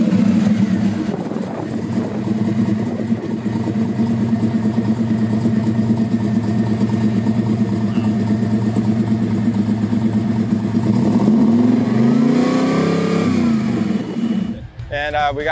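A twin-turbo 6.2-litre LSA V8 hot rod runs in the pits at a drag-and-drive event. Its deep, steady, close-up rumble carries on for several seconds, then the revs rise and fall in a few sweeps before cutting off.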